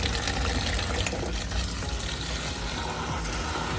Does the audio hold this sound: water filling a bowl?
yes